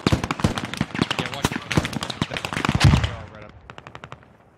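Rapid bursts of .50 cal machine-gun fire in the military shooter Squad, loud sharp repeated reports in a fast rhythm for several seconds, then a few fainter distant shots as it trails off, with voices heard faintly.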